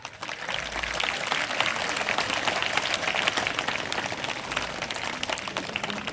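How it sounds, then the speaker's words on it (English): A crowd applauds steadily and loudly, a dense wash of clapping that holds without break from start to finish. "Can I have a big round of applause?"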